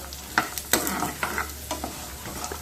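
Chana dal, urad dal and dried red chillies frying on low flame in a pan, with soft sizzling under repeated scraping stirs and clacks of a spoon, close and fairly quiet.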